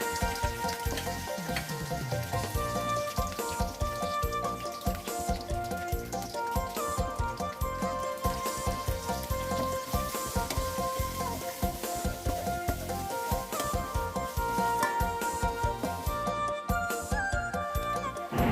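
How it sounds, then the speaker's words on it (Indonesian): Ground rawon spice paste fries in hot oil with bay leaves, lime leaves, lemongrass and galangal, giving a dense, steady crackling sizzle that runs unbroken with no voices. "Bumbu-bumbu yang telah halus tadi kita ulek, sekarang kita goreng"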